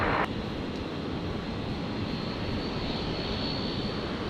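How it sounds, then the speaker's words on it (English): A Jetstar jet airliner passes overhead near Brisbane Airport, a steady loud broadband engine roar filling the whole stretch without letting up, with no voices. "Probably the Jetstar that flew over our house. That was the one that just arrived."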